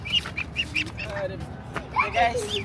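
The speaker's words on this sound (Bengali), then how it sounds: "এই হচ্ছে সবগুলো হাঁসের বাচ্চা একসাথে দিয়ে দিলাম" Ducklings being handled, their high chirping calls heard close by in short repeated bursts, mixed with an adult duck's quacks under ongoing talk.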